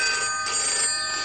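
A telephone bell rings continuously with bright, steady tones, close and fairly loud, with no voices over it.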